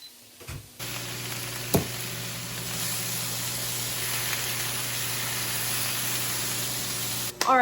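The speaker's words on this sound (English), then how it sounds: "I'm checking on the stuff that's frying" Steady broadband hiss of food sizzling in a pan, continuous and fairly loud, with a steady low hum underneath and a brief clatter near the start.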